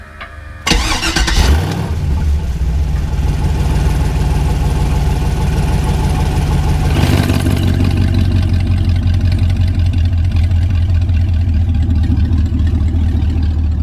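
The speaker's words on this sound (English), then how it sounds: "So Lukey, crank it back up" A Plymouth rat rod's engine cranks and catches at about one second, then runs loud and close with a steady, rough idle that lifts briefly around seven seconds before settling back into a continuous rumble.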